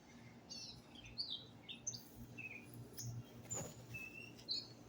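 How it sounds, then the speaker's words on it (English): Birds chirp and tweet in a backyard with berry plants, scattered short high calls overlapping one another at moderate distance over a steady low outdoor hum. "I know the birds be getting busy."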